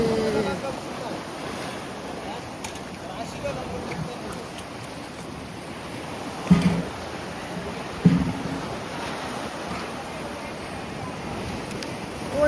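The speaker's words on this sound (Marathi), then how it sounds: "मजा येते फुल एकदम लाटा बघा" Sea waves wash steadily against a shore where the tide is rising, a broad continuous surf roar with gusts of wind across the microphone and two short knocks partway through.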